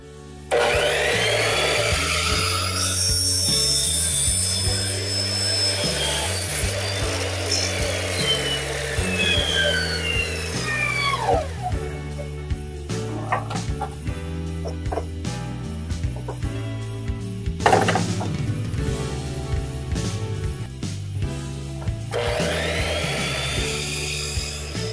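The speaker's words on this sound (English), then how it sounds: "when making cuts with a stop block, make sure the saw blade stops completely before you lift the blade after the cut" Power saw cutting wood against a stop block, the blade whining loudly up close through several cuts, spinning down between passes with brief pauses and restarts.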